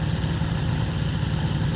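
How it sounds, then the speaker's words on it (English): A trike ultralight engine idles in a flight simulator at ground level, producing a steady low, throbbing drone with an even rhythm that holds at a constant level for the whole stretch, with no voices or other sounds over it. "start the engine and nudge the throttle up just a little to start moving"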